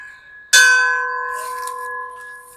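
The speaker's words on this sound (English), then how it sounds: "And definitely working bells." A single bright strike of a vintage fire truck's bell rings out loud and close, then its clear tone hangs and slowly fades over a couple of seconds.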